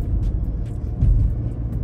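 A 2022 Ford Bronco Sport rolls along a road, its low engine and tire rumble steady and close from inside the cabin, with a few brief soft bumps and no talking.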